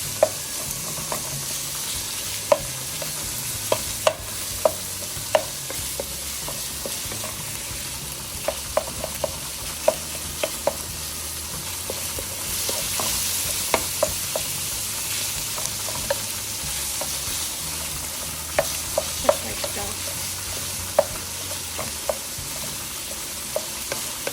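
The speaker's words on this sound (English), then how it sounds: "you want to go ahead and incorporate the ground beef with the onions as well as the garlic" Ground beef with onions and garlic sizzles steadily in a pan while being stirred, with scattered scrapes and clicks of the utensil against the pan throughout, close and alone.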